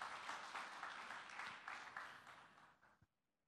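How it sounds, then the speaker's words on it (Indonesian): A church congregation claps in a sustained burst of applause lasting about three seconds, then it cuts off abruptly into quiet. "Tepuk tangan bagi Tuhan Yesus"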